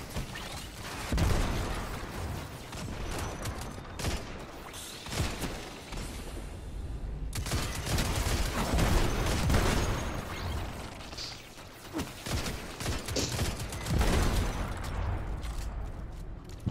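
Steady hand cannon fire and loud combat explosions from Destiny 2 pound through the whole stretch, a dense mix of repeated shots and booms.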